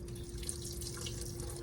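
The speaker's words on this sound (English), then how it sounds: "rinse with distilled water" Distilled water runs into a sink as a surgical instrument is rinsed during cleaning, a soft continuous trickle with faint drips over a steady low hum, quiet and close.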